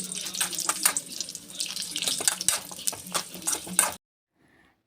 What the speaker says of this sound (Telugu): ఆయిల్ కొంచెం కాగిన తర్వాత మనం ముందుగా కట్ చేసుకున్న మునక్కాయ వేసుకొని కొంచెం దోరగా వేయించుకోవాలి